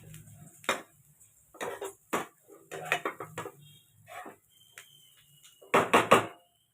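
Coriander stirred into an onion mixture in a pan, with a run of faint, separate metallic clinks and scrapes of a spoon against the pan between quiet pauses.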